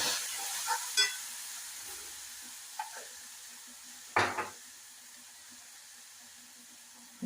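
Okra curry sizzles and hisses in a pan as water is added, with a few sharp clatters and stirring knocks over a steady low frying hiss, no talk.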